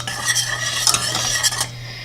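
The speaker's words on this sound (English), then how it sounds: "I'm just going to whisk that in" A whisk scrapes and clinks briskly around a bowl, stirring powdered allulose into a keto blueberry crumble bar mixture, a short close burst of metallic swishing strokes.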